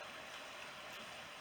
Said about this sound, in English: with its not really white water, just a little ripple in the water.